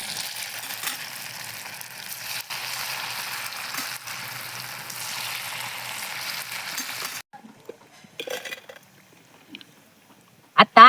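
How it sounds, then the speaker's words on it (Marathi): Fasting bhaji fritters deep frying in oil give a steady, moderately loud bubbling sizzle for about seven seconds, then it cuts off, leaving a few faint clinks and scrapes. "आता अशा प्रकारे आपण सर्व भजी तळून घेऊया."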